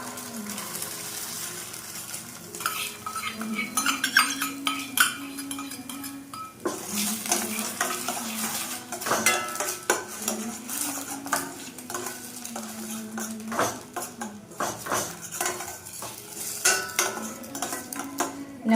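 Eggs stirred into a pan of cauliflower, with a metal spoon clinking and scraping against the pan in quick, busy strokes over a soft sizzle throughout.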